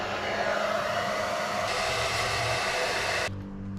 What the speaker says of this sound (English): This 20-year-old hairdryer worked a treat.